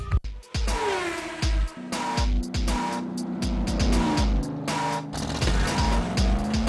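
Race car engines roaring and revving hard with tires squealing and skidding, loud and close with sweeping pitch changes and sharp bursts, part of a TV promo for a motorsport night, no voices.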